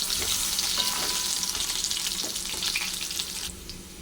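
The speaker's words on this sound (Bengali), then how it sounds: "এবার আলুটাও ভাজা হয়ে গেছে লাল করে" Potatoes frying red-brown in hot oil for a potol-aloo curry give a steady, dense sizzle with a few soft stirring clicks, close and continuous throughout.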